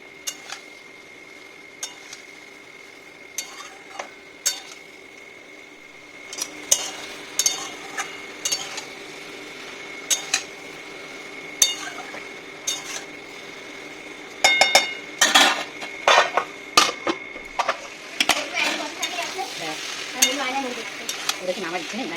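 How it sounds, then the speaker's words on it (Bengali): Cubed bottle gourd is stir-fried with spices in a pan, giving a soft steady sizzle broken by frequent sharp scrapes and clinks of a spatula against metal, busier toward the end, with no voices. "এবারে আমি কিউব কিউব করে কেটে রাখা লাউটাও এর সঙ্গে অ্যাড করে দিলাম, দিয়ে এবারে একটু আমি ভালো করে কষবো"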